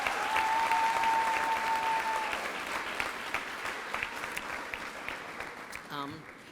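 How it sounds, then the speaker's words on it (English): Audience applause at a school graduation ceremony, a steady wash of clapping from a large crowd that fades gradually, with a brief sustained tone early on and a short voice near the end. "Could you please applaud her?"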